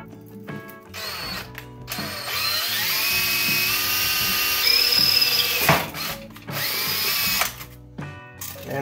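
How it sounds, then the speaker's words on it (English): Close, loud power drill running in sustained bursts, its motor whine shifting in pitch, with brief pauses between runs. "that's hard on the old drill bit"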